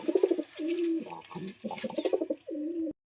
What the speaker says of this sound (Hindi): देखो ये जंगली कबूतर